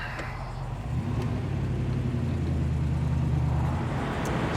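A 1966 Ford Mustang convertible engine rumbles low and steady as the car pulls away and cruises, a deep continuous drone with no talking.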